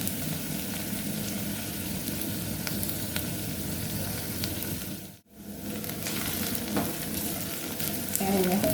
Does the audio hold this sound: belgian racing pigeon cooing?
no